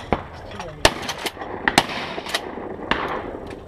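Shotgun blasts at clay targets on a sporting clays course, several loud, sharp reports spaced unevenly over about four seconds, with people talking in the background.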